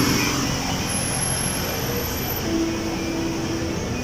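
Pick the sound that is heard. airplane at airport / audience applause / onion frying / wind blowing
airplane at airport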